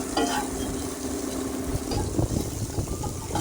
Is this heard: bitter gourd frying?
yes